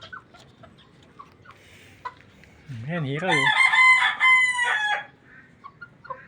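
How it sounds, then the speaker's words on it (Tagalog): A black rooster crows loudly and nearby with a long drawn-out call, after a few softer clucks and faint background noises; a person speaks briefly. "Ano kayang klaseng manok yan?"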